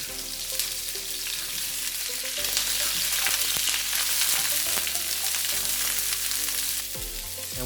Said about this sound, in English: Now we're going to cook the vegetables. We're going to add just a little bit of oil.